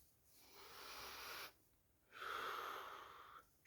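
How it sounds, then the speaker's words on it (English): Slow, steady square-breathing: two long, soft airy breaths in and out, close to the microphone and quiet, separated by a short silent pause. "short breaths in and out"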